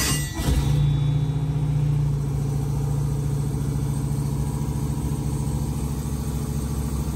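Classic car engine fires and settles into a steady, loud idle after a brief starting burst, running continuously with no talk over it.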